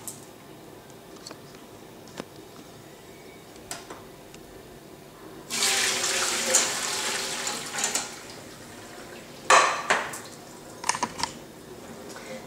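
A rush of water pours out of a pot of boiled chicken breast for a few seconds, followed by scattered clatters and knocks of kitchenware, close by, with no one speaking.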